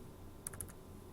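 Quick taps on a computer keyboard while entering a graphing calculator function, a short burst of about four light clicks, faint and close against a quiet room hiss.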